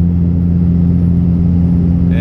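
A 3rd gen 5.9 Cummins diesel truck towing up the Tehachapi Pass at a steady 65 mph, heard from inside the cab as a loud, constant low engine drone with no change in pitch.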